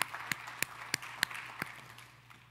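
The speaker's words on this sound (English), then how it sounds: "Give them a round of applause, folks." Audience at a motivational talk on coaching athletes gives a sparse handful of separate claps, roughly evenly spaced over about two seconds, fairly faint and with no voices over them.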